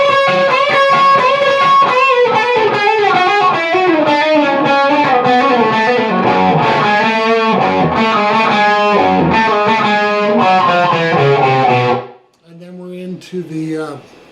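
Heavily distorted electric guitar plays the final solo of a song, loud and dense with fast bends and sustained notes for about twelve seconds, then cutting off abruptly to a brief quieter tail.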